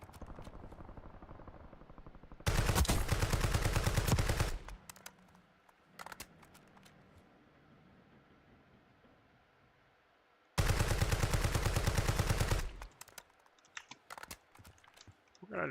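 Two long, loud bursts of rapid automatic gunfire in Call of Duty: Warzone, separated by quieter stretches with scattered single shots and game noise.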